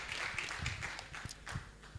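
An audience at a report dissemination event claps in a short round, scattered and fairly faint hand claps with uneven rhythm that taper toward the end.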